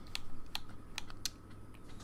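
A game controller's D-pad clicks sharply four or five times at an uneven pace while someone plays Planet Coaster on a console, with no talking.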